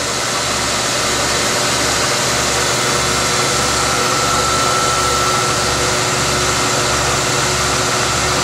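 Spindle of a 2001 Tsugami 4-axis 18mm CNC Swiss turning center running at about 6,000 RPM, giving a steady close whine and hiss with a low, regular pulsing hum underneath.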